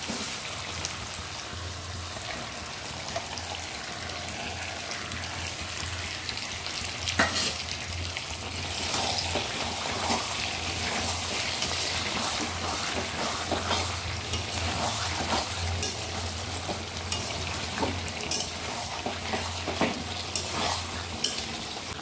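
Prawns sizzle and fry in a pan of cooked-down masala for a Bengali-style green jackfruit and prawn curry, a continuous crackling hiss with occasional stirring scrapes and clinks, close and steady, no talking.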